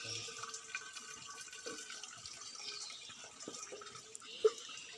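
Water is drawn for a puja during Sankranti worship of the deity Chambu in Nirmand, a soft, steady trickle with faint splashes and a single sharper drip or knock near the end.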